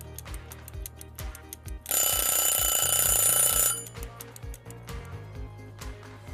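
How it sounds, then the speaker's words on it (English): A new steeped tea timer rings in a loud, sustained electronic burst of about two seconds, breaking in over a repeating rhythmic tone pattern that plays before and after it. "just coming back for a brief moment so you can hear the new timer"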